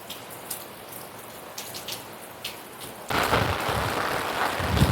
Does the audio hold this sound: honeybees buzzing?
no